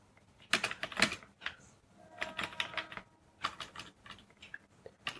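Typing on a computer keyboard comes in several quick bursts of close, crisp key clicks with short pauses between runs, heard alone without talk.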